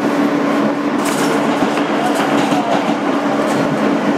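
A 2008 Kawasaki R-160B N local subway train on the BMT Sea Beach line rolls steadily, a loud, even interior rumble with a constant motor hum and faint wheel clatter.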